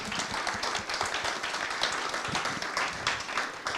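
Audience applause at a collective re-signing event, steady dense clapping from a crowd that fills the whole stretch with no gaps.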